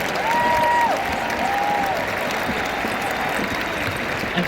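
Audience applause rises and holds at a live corporate event, a dense, steady wash of clapping from a large crowd that fills the hall throughout, with a faint tonal ring behind it.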